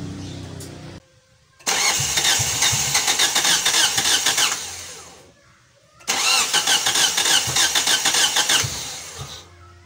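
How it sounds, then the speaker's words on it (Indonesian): A Mitsubishi Lancer GTI engine is cranked in two loud, close bursts of several seconds each with a pause between them, a rough churning starter noise that does not settle into a steady idle. "sekarang mau saya coba lagi dulu hidupkan, pasang hidupkan lagi."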